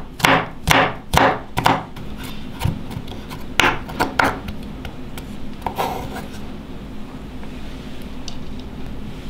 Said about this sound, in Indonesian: Ada 2 siung bawang putih, kita iris halus.